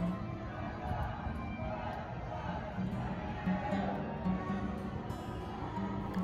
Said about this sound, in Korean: 어디서 함성소리, 노랫소리가 막 들리는 거예요